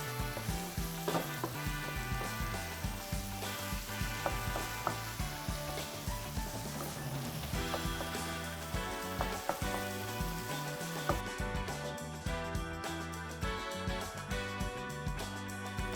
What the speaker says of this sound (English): As you can see, the meat just keeps on cooking through